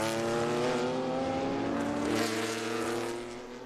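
Race car passing on the Virginia International Raceway track during an SVRA classics weekend, a loud steady engine drone that peaks and then fades as it moves away.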